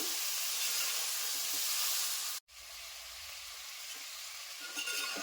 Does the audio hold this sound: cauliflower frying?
yes